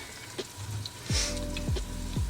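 Vegan seitan steaks frying in a hot pan make a soft, steady hiss close by, with a low hum and a few dull thumps underneath and no talking.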